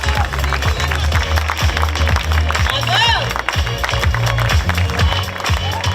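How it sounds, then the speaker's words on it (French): Crowd applause and clapping at the Transat Jacques Vabre sailing race finish in Fort-de-France, a steady loud roar of many hands with cheering voices and a voice over it. "Des applaudissements s'il vous plaît."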